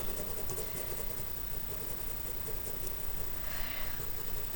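A pencil shades repeated lines on paper during a drawing lesson, giving a steady close scratching rasp with brief fluctuations and no talking.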